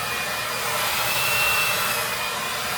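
Hair blow dryer running continuously during an at-home blowout while a round brush lifts and smooths the top section of hair; a loud, steady whooshing roar with no pauses and no talking.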